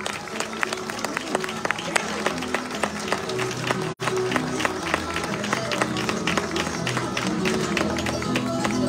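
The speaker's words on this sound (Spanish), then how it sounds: "Repetimos entonces el aplauso para todos ellos." Crowd applause at a Fiestas Patrias parade in Paine, Chile: steady, dense clapping from many hands, close and loud throughout, with a brief gap near the middle and crowd noise beneath.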